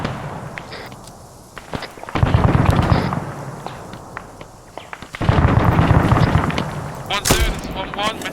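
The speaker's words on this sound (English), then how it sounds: "contact, taking heavy fire from the northwest" Heavy automatic gunfire in ArmA 3 comes in two loud, dense bursts of rapid shots with scattered single cracks between them, close and sustained.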